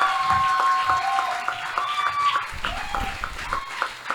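A church congregation claps and cheers during a worship service, a continuous wash of applause heard beneath a preacher's voice and a sustained organ or keyboard tone.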